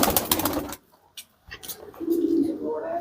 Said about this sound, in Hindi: ओरिजिनल कबूतर है, इसको मैं आपको छोड़ के दिखाता हूँ।